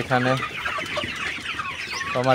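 About 500 Sonali super hybrid chickens cluck and squawk close by, a busy overlapping chorus of calls with a few louder drawn-out cries at the start and end.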